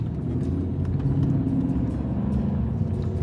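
Road traffic rolling past nearby, a steady low rumble of cars with faint swells, continuous and fairly loud, no voices.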